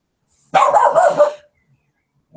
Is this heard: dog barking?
yes